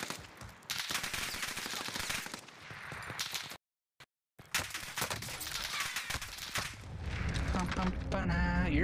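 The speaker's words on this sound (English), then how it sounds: "I'm being shot from two fucking teams." Rapid automatic gunfire in a multiplayer shooter video game, dense bursts of rattling shots close by, broken by a brief silent dropout, then more firing over a low rumble, with voices talking throughout.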